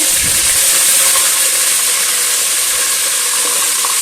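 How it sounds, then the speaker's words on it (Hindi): Ginger garlic paste sizzling in hot oil in a pan, a loud, steady, close frying hiss that runs without a break, and no one talking. "हमारा गरम हो गया, हम इसमें एक ये सालन वाला चम्मच अदरक लहसुन पेस्ट डालेंगे"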